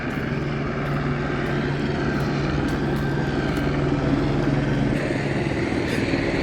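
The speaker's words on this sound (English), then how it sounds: "now they got the helicopter." A helicopter drones steadily overhead, a continuous loud rotor and engine hum that holds constant throughout, with no voices.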